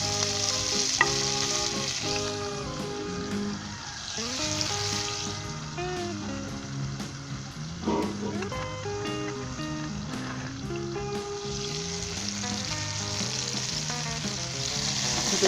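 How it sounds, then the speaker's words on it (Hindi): Chopped onion, ginger, garlic and green chillies fry in hot vegetable oil in a home kitchen, a loud continuous sizzle with occasional stirring scrapes, while a steady musical background plays underneath. "और ये सारे जो प्याज हैं, अदरक हैं, लहसुन और सब्ज़ मिर्ची इसमें हम शामिल कर देंगे।"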